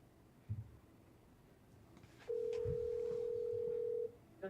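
A phone call rings out on the line as a single steady tone sounds for about two seconds, fairly faint, amid low room noise and a couple of soft knocks, with no talking.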